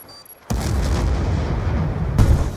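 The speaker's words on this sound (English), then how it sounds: "This bomb is gonna blow" A bomb detonates in the video game Black Ops 2, a sudden loud boom after a near-silent start that rolls into a sustained rumbling blast and swells again toward the end.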